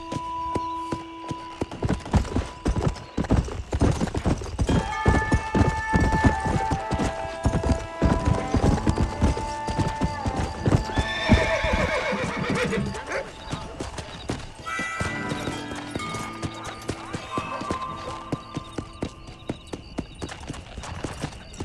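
Horse hooves clip-clop steadily at a gallop in Red Dead Redemption, with a loud whinnying neigh and game music over continuous close hoofbeats; a voice speaks briefly now and then.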